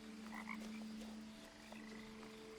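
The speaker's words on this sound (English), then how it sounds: "Frog?" Frog croaking in the video game What Remains of Edith Finch: repeated low croaks over a steady droning ambience, close and moderately loud, with no voices.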